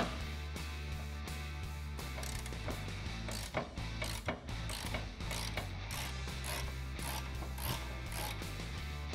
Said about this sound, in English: Grabbing your 21mm wrench and socket, once you've broken it loose, you can switch to a ratchet,